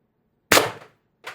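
A Beeman BP50 carbine CO2 air gun with a 16-inch barrel fires a single sharp, loud crack that decays quickly, followed a moment later by a fainter second burst.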